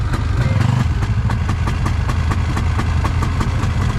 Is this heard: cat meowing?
no